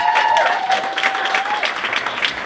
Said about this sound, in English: big round of applause for all you guys for showing up today